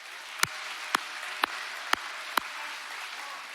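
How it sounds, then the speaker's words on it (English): An audience at a Boys & Girls Club Youth of the Year event applauds its sponsors, a steady wash of distant clapping punctuated by five sharp, evenly spaced nearby claps. "Let's give all of our sponsors a round of applause."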